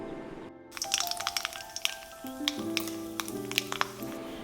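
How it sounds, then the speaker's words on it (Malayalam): Mustard seeds crackle and pop in hot coconut oil, a dense run of sharp little cracks up close over a soft sizzle, with faint background music and no talk. "വെളിച്ചെണ്ണ ചൂടാകുമ്പോൾ കടുക് ഇട്ട് കൊടുക്കാം."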